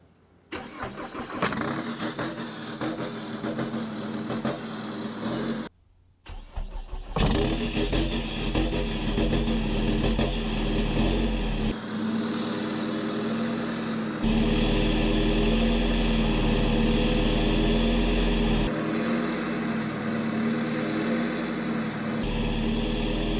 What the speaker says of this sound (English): who doesn't want to see a cold start on a hood stack Colorado?